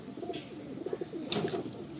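A male Madrasi pigeon in a loft coos close by, a low, throaty, rolling call repeated in a short run with no voices.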